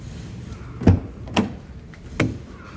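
Three short thuds from a 2021 Fiat 500 Dolcevita as someone climbs inside, door and body knocks over a quiet background, the first the loudest, the next two lighter and spaced about half a second apart.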